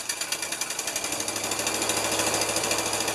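A rescued 1975 Lincoln Continental V8 idling after a long time standing, a close, rapid, even mechanical chatter with a steady pulsing beat, alone without voices.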